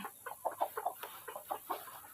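Three brown hens in a coop clucking in short, quick bursts, a close, moderately quiet run of soft clucks with no talking.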